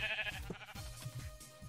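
Sheep bleating in Minecraft, a few short wavering bleats in quick succession, fairly close and clear with no talking over them.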